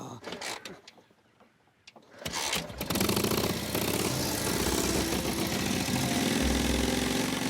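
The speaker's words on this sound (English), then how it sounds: "Sounds like an old tractor." An old restored tractor engine with a suicide clutch coughs into life after a quieter stretch, then runs at a steady, loud, rough chugging idle up close.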